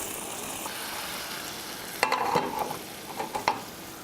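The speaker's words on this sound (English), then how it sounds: "the key with risotto is you need to keep stirring it" Risotto with spinach is stirred in a hot pan: a steady low sizzle, then a spoon scraping and clinking against the pan in several short, uneven strokes, close and clear.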